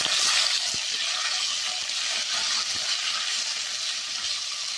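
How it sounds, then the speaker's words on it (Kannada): Food frying in a pan with coriander leaves and mint, giving a steady bright sizzle close by, with a few soft knocks and stirs underneath. "ಇಲ್ಲೊಂಚೂರು ಫ್ರೈ ಆಡು"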